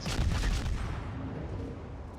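The battleship New Mexico's secondary guns fire in World of Warships, heavy overlapping booms rumbling loudly at first and then fading into a low, lingering roll.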